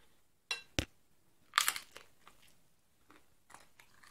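Someone bites and chews a crunchy flatbread cooked over an improvised emergency burner made from a bottle cap, giving a few sharp close crunches followed by softer chewing and rustling, with no talk.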